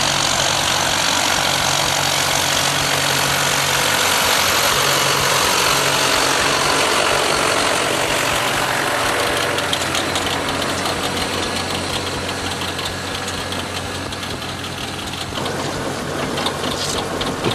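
A heavy tractor engine runs loudly and continuously nearby during potato planting, a rough, knocking drone with mechanical clatter layered on top throughout.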